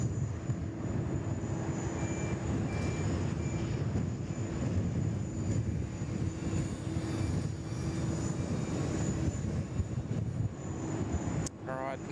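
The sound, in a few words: China Southern airliner passing at Sydney Airport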